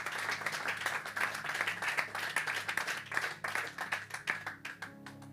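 Sustained audience applause at a church gathering, many hands clapping loudly and steadily for several seconds, thinning out toward the end.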